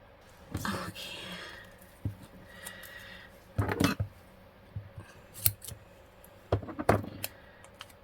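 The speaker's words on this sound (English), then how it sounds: "And then I can cut the excess off." Scissors snip excess paper for a handmade mail piece, giving several short crisp cuts in separate bursts with quiet handling between them, close and moderately loud.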